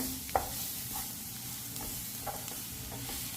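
Egg frying in a hot pan, a steady close sizzle with a few soft stirring scrapes and light taps against the pan.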